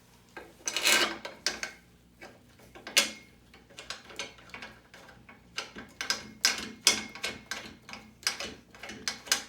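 A bolt on an Ancheer treadmill is tightened by hand, making a string of close, quiet ratcheting rasps and clicks in an uneven rhythm.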